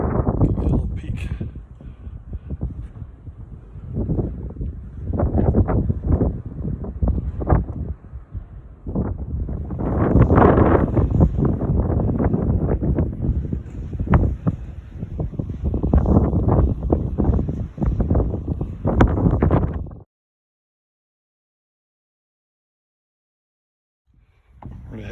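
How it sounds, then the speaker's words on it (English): Strong, gusty wind on the summit of Black Elk Peak, South Dakota, buffets the microphone in a steady roar for about twenty seconds, then cuts out to near silence before a brief gust returns. "Very, very windy. It's windy here for some reason."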